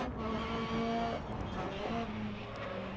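Engine revving hard under acceleration on a dirt track in an off-road racing video game, a steady loud motor drone with tonal whine and rough gravelly texture throughout.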